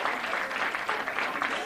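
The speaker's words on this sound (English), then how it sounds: "Well, a round of applause." A football crowd at a Bedford versus Pinkerton game applauds in a brief, steady patter of clapping that sounds somewhat distant.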